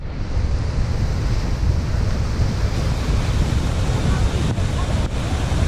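Water rushes steadily through the Possum Kingdom Lake dam spillway, a continuous loud roar of churning flow with wind buffeting the microphone, no voices.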